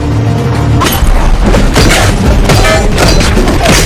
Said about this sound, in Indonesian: Dan saat ingin menembak menggunakan peluru terakhir, pistol itu meledak dan Matteo pun mati